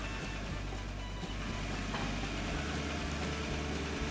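A tractor engine idling in Farming Simulator 22, a loud steady low rumble with a constant droning tone running unbroken throughout, heard close and alone.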